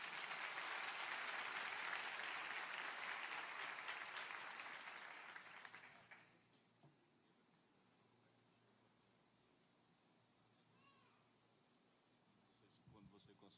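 A church audience applauds loudly and steadily for about six seconds, then the clapping fades out into quiet room tone.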